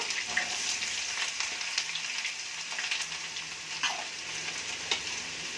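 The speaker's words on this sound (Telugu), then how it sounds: "కరివేపాకు, ఉల్లిపాయ ముక్కలు వేసి ఒకసారి ఇట్లా కలిపి" Curry leaves and chopped onion sizzle steadily in hot oil for a vegetable kurma, with occasional spatula scrapes and stirring clatter close by; no talk.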